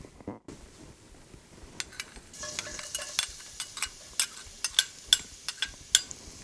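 Garlic stir-fried in hot oil in a wok for a Khmer vegetable dish, a soft sizzle under a steady run of sharp utensil scrapes and taps against the pan, growing more regular and closer as the stirring goes on.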